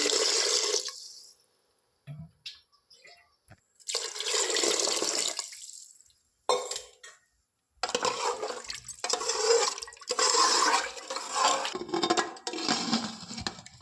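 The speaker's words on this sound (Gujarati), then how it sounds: "તો હવે આપણે પાણી એડ કરીશું," Water gushes and splashes into a pressure cooker for khichdi in several bursts separated by short pauses, close and fairly loud.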